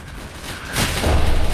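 Artillery fire in the video game Entrenched, a single deep boom swelling up midway and rumbling on to the end, heavy and mid-distance, with no talk over it.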